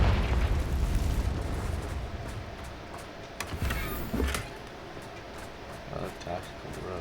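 A loud, rumbling blast from the Confringo fire spell in Hogwarts Legacy erupts at the start and slowly fades, followed by a few smaller pops and bursts.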